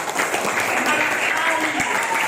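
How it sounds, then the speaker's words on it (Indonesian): A classroom of children claps for their teacher in a dense, steady burst of applause that fills the room from start to finish, with young voices mixed into the noise. "tepuk tangan buat saya"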